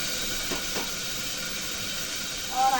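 Cumin seeds, tomato and green chili tempering sizzle in a hot kadai, a steady close hiss that runs the whole time, with a short tonal whine near the end.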